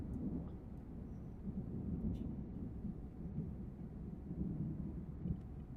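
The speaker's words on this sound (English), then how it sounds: "that thunder kind of probably just scared a few people up" Thunder rolls on through a storm in the Euro Truck Simulator 2 truck-driving game, a steady, low rumble that holds for the whole stretch with faint rain-like hiss and no speech.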